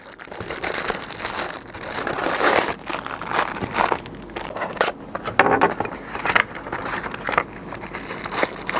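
Packaging for a power bank holder is opened by hand: steady, close crinkling and crumpling of plastic and paper, with rustles and sharper crackles running throughout. No one speaks.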